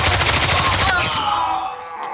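Rapid automatic gunfire bursts in the Roblox tactical shooter Hellmet, a fast rhythmic string of loud close shots that stops abruptly, followed by a brief hissing burst and fading ringing tail.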